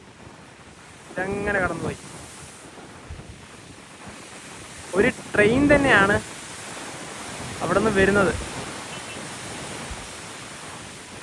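Strong coastal wind beside a Sri Lanka railway line buffets the microphone in a constant, loud rushing roar, while someone speaks in three short bursts over it.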